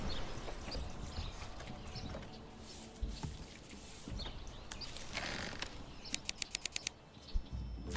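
Horse hooves clip-clop in the Manor Lords medieval city-building game, a quick, regular run of clopping hits over steady ambient game sound with faint birdsong.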